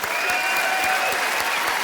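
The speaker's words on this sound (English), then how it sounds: "Let's give Chris a round of applause while we think about it." Steady crowd applause fills a comedy club during a stand-up roast, a broad continuous wash of clapping with a faint whistle or cheer riding over it, sustained and fairly loud throughout.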